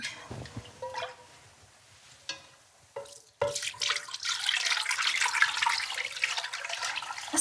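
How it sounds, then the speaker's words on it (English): Poaching liquid flavored with citrus zest, cinnamon and cloves poured through a strainer off poached pears in a kitchen, brief clinks and splashes followed by a steady, close pouring stream of liquid. "So we're just gonna go ahead and strain out the liquid so we can reduce it a little bit."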